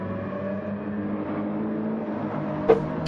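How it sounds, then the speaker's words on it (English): Mazda RX-7 race car in Gran Turismo 7 at Lago Maggiore, a steady buzzing engine drone held at high revs throughout, with a brief sharp spike near the end. "He's in the buzzing thing, isn't he? The RX-7, is it? Great car, horrible noise."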